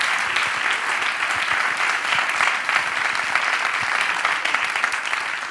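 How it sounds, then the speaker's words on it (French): An audience at the opening ceremony of the Paris Podcast Festival 2019 applauds the staff and volunteers. The clapping is dense, sustained and loud from a sizable crowd and stays even for several seconds, with no voices over it. "Et là, je vous demanderai de les applaudir aussi."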